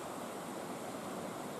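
Ocean surf at Binaloka beach in Merauke, Papua, with waves up to three meters high in bad weather and strong wind. It makes a steady, dense roar of breaking water with no pauses and no voices.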